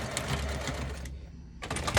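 A sewing machine runs in a quick mechanical rattle, stops briefly, then starts stitching again, close and moderately loud, back-stitching beside a zipper on a bag pocket.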